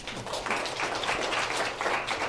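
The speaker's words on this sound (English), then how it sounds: "let's give him a big round of applause, Chris Yadon." Audience applause for a speaker at a retreat event, a steady wash of many hands clapping at moderate level for a couple of seconds, with no speech over it.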